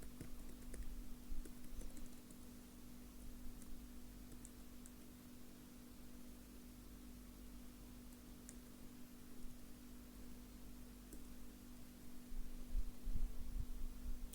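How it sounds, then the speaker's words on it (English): An email address being typed on a computer keyboard, faint scattered key clicks over a steady electrical hum and background hiss. "then you have to type your email address"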